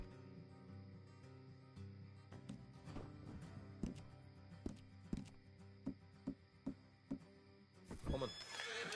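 Horses in Red Dead Redemption 2 snort and neigh over a low musical bed, with a series of sharp hoof thuds and a louder burst near the end.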